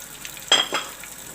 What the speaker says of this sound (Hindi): इसको फ्राई करेंगे इतना कि प्याज का थोड़ा कच्चापन ख़त्म हो जाए।